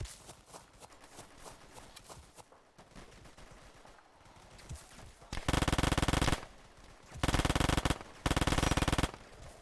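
Gunfire in the World War II shooter Easy Red 2: scattered distant shots and clatter at first, then loud, close bursts of rapid automatic fire in three long volleys separated by short pauses.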